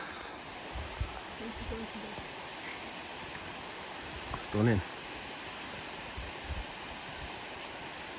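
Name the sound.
waterfall at Bolton Abbey, Yorkshire Dales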